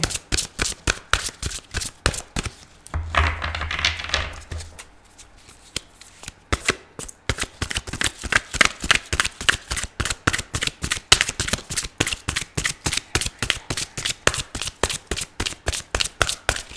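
Rapid rhythmic riffling of a deck of tarot cards being shuffled up close, repeated many times with a short pause of softer handling in between.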